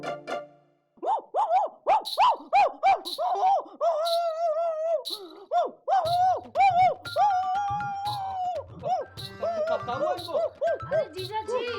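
A rapid run of bark-like yelps, loud and close, in an indoor comedy scene; the repeated syllables sound like a human voice imitating a barking dog.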